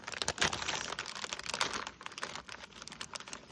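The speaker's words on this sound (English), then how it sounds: "I really like it when I hear crinkling on people's videos." Plastic packaging crinkles and rustles as it is opened during a craft supply haul, a dense, close, continuous crackle with no talking.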